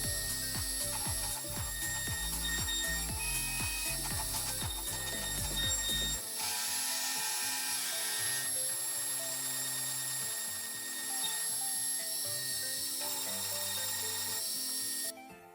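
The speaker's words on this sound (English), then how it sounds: "Here you can see the pockets being machined" CNC machine cutting pockets into a spoilboard, a continuous close mechanical whir with rapid ratcheting clicks and shifting tones that change abruptly partway through, no voices.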